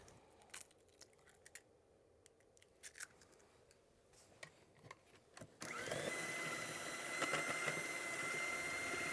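Orange cake batter for a 1938 Depression-era recipe being beaten after an egg is added, first faint scraping and clicks, then a steady loud whirring mixer drone that starts abruptly midway and runs to the end.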